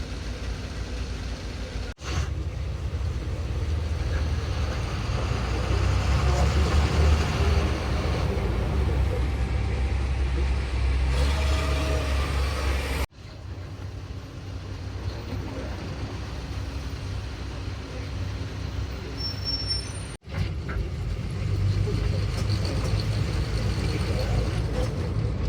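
Heavy road traffic on a diversion route in Nagpur, Maharashtra, with a steady low engine rumble of cars, buses and trucks heard from inside a moving vehicle, broken by two brief cuts, while people talk over it.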